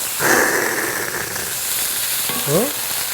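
Loud, steady sizzle of water dropwort, enoki mushrooms and bean sprouts stir-frying in a hot pan, with a brief clatter of stirring near the end.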